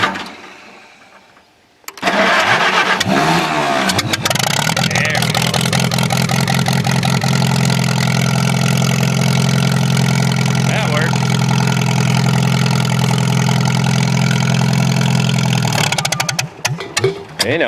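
Farmall tractor engine cranking and catching after a short quiet lead-in, then settling into a loud, steady close-up idle with a slight rev, running until it cuts out near the end.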